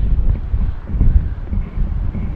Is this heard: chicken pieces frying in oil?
no